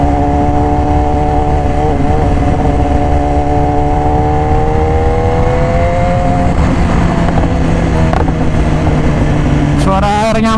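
A 2018 BMW S1000RR in racing red with an Austin Racing exhaust is ridden, its engine roaring loudly and close as the pitch climbs steadily through a gear, then drops with a quick shift near the end.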